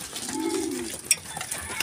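Pigeons coo while being fed, one low rolling coo standing out clearly near the start, with a short sharp click partway through and soft background noise around it.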